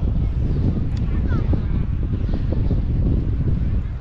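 Strong wind blows outdoors at the Coiling Dragon Ancient Bridge, a steady, loud buffeting rumble against the microphone that runs unbroken for the whole four seconds.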